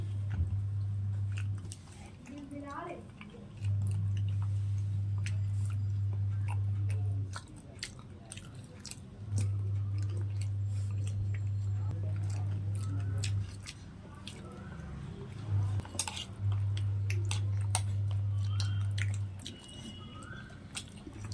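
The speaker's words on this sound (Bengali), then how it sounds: "তো রুটি একটু আমি ঘুগনি দিয়ে খেয়ে দেখি, কিছুটা তো আলু মাখা দিয়ে খেলাম।" Soft, close chewing of roti eaten with ghugni, with moist bites and squishes recurring over a steady low hum that cuts in and out.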